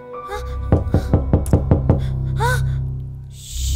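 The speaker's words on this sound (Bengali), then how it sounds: "কে যেন দরজাটা নক করলো?" A door is knocked about six times in a quick, evenly spaced series of sharp, close raps, framed by dramatic musical tones.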